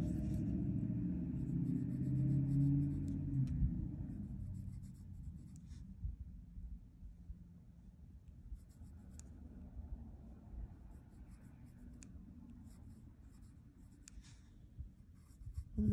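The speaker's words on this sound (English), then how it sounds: "I am going to go ahead and add some graphite here." Graphite pencil shading on paper for a Zentangle drawing, a soft continuous scratchy rubbing close by over a low rumble, with brief faint sounds in the background.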